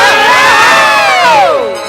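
An audience at a Bhojpuri stage show lets out a loud burst of cheering and whooping, many voices rising and falling together before fading.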